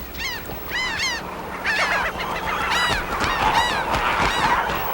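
Seabirds calling over Isla de Aves, a small island refuge with resident and migratory birds: a dense, continuous chorus of honking, goose-like cries that overlap and repeat throughout, fairly loud and close against a windy background.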